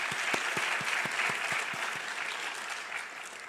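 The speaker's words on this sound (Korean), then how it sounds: "우리 함께 박수로 축복하도록 하겠습니다" A church congregation at an Easter service applauds after a child's infant baptism, warm steady clapping from many hands with a few sharper claps at the start, fading slightly toward the end.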